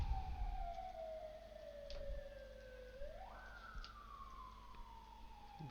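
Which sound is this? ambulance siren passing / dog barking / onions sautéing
ambulance siren passing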